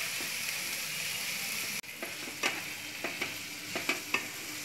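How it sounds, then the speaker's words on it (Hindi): Vegetables salted for fried rice fry in a pan with a steady sizzle, then softer crackling hiss punctuated by several sharp stirring scrapes and taps; nobody speaks. "2 मिनट फ्राई कर लूँगी।"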